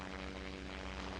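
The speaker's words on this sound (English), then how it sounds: "It takes a little bit to get this plane going." Propeller plane engine droning steadily as it strains to take off from water in the SimplePlanes VR flight game, a continuous low hum with no talk.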